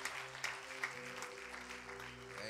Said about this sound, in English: Can we give a big round of applause to all of our visitors?